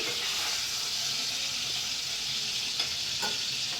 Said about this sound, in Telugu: వంకాయలు అయితే ఫ్రై అయిపోయాయి